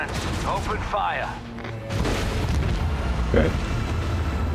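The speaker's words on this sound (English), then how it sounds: "Macro cannons, open fire." Starship macro cannons open fire in the Warhammer 40K game Rogue Trader, heavy booming volleys rumbling continuously beneath game voice lines, with a loud blast near the end.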